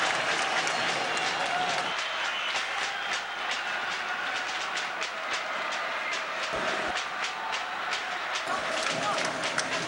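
A stadium crowd at a 2011 Carioca football match between Madureira and Vasco roars in a dense, continuous wash of cheering and clapping, with a voice talking over it.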